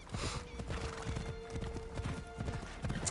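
Horse hooves clip-clop steadily in an Assassin's Creed Shadows game scene, a quiet, even rhythm of hoofbeats carrying through the whole stretch with a faint background hum.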